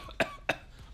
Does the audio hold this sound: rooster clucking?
no